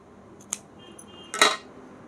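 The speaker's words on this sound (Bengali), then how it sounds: "কোনাগুলোকে এইগুলোকে কেটে দিতে হবে হালকা করে" Scissors snipping the corners of sewn cotton dress fabric: two brief, faint snips about a second apart in a quiet room.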